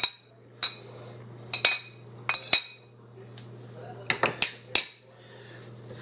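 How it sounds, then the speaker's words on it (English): A utensil stirs holiday dressing in a bowl, making sharp, close clinks and scrapes against the dish at irregular intervals over a low steady background hum. "I'm going to mix this in."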